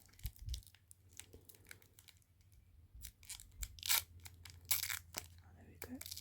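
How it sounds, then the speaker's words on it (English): Scissors snip and crunch through plastic kit packaging at close range, a series of quiet, irregular cuts and crinkles over a low background hum. "I need to get the scissors."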